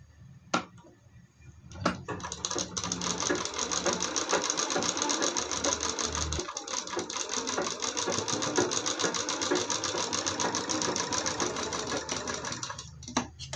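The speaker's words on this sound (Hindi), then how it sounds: "तो ये सिलाई हमने लगा दिया।" A sewing machine runs almost without pause while stitching a salwar seam, a loud, close, rapid chattering whir that holds steady for over ten seconds after a couple of short starts, with no talk.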